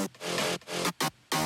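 Growly bass one-shot exported from a track, played as a few loud, thick, buzzing bass notes in a short choppy rhythm, close and dry with no voice.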